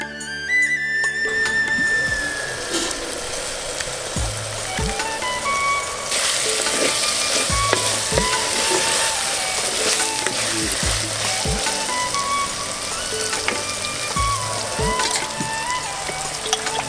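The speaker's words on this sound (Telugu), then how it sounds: "సన్నని మంట మీద మంచిగా వేయించుకోవాలి" Curry leaves frying in a pan over a low flame for yellow cucumber dal, giving a steady, close sizzle with repeated stirring scrapes throughout.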